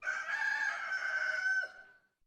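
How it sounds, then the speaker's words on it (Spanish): A rooster crows once in the stillness of night, a long, loud cock-a-doodle-doo that holds steady for well over a second before trailing off into silence. "Se oyó el canto de un gallo en el silencio de la noche."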